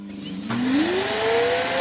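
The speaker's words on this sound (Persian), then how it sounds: "این جارو برقی کوچولو بزن" A small handheld vacuum cleaner switches on with a sudden burst and spins up, its motor whine rising steadily in pitch and then holding as a loud, close, steady drone.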